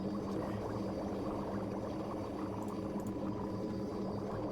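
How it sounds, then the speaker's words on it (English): A cauldron or potion mixture bubbles steadily in Dragon Age: Origins, a continuous low churning of liquid at moderate, even level with no pauses, heard alone without voices. "Oh, that bubbling sound."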